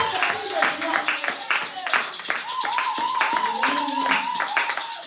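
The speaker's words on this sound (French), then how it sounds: "Est-ce que tu peux acclamer pour la parole de Dieu?" A church congregation claps and applauds together, a dense, steady patter of hands mixed with voices and some sung or shouted tones rising above.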